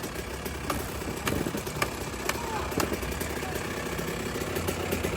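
A Honda Elsinore two-stroke dirt bike engine fires up and runs with a rough, raspy idle and sharp popping bursts, heard outdoors at a Southern California two-stroke gathering with crowd noise around it.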